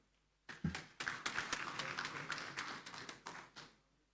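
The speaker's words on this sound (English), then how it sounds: "Can we give it out to them once again? Can we clap for them?" An audience at the 4th African Inter-Parliamentary Conference claps for the speakers, a burst of applause swelling quickly and holding steady for a few seconds before thinning out, with no voices over it.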